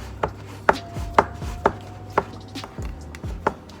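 Pie dough for a berry pie being pressed by hand into the sides of a pie dish: a steady series of soft, close thumps and taps, roughly two per second, with no talking.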